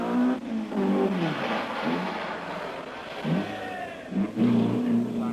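A single-cam Group 2 Datsun rally car on a foggy forest stage, its mid-pitched engine revving and climbing through gears close by, with a few brief lifts between bursts and a voice talking over it.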